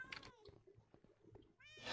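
A cat in the Minecraft video game meows twice, short and fairly clear, one at the start and one at the end, with faint low game noise in between and no talk.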